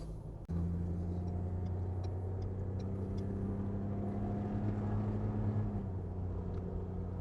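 Inside a Ford Bronco cruising near 45 mph under light acceleration, a steady low engine and road rumble drones continuously after a brief bump at the start, with faint cabin rattles and no voices.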